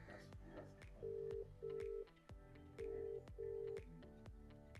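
A phone call rings out with repeated even electronic ring tones in pairs, clear over a bed of music and background chatter.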